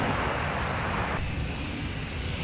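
A Southwest airliner taxis at Minneapolis–St. Paul airport with a loud, steady engine roar. The broadband rumble holds close throughout the short stretch, with a slight drop in level partway through.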